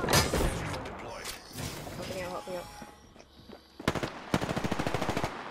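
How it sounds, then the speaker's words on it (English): Shotgun blasts in a multiplayer shooter game ring out in bursts amid busy game sounds, with a rapid string of loud shots near the end while players talk over the action. "he shot me with a shotgun"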